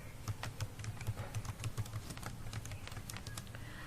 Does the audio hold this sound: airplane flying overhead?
no